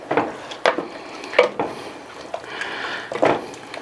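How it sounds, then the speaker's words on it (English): Pork in red chile sauce being stirred in a pot, carne adovada style: a handful of soft scraping, squishing strokes of a utensil against the pot at irregular intervals, close and moderately loud, with no one talking. "Stir this up. Make sure everything's nice and coated."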